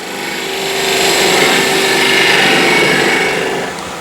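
A skew chisel cuts end grain on a wood spindle turning on a lathe, giving a loud, steady hissing, scraping whir that swells in the middle and eases off at the end, with no talking.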